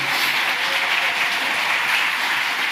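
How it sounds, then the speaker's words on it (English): A church congregation at a commissioning service breaks into steady, dense applause, a continuous wash of many hands clapping with no talk over it. "Church family, with a thunderous round of applause, can y'all celebrate with us these who we're commissioning out today"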